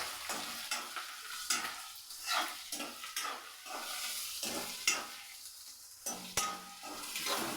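Carrots sautéed in a pan, stirred steadily with a utensil that scrapes and clinks against the metal under a soft frying sizzle, with close, irregular strokes throughout.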